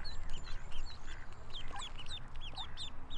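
A duck quacks in several short, bright bursts, moderately close over faint outdoor background noise.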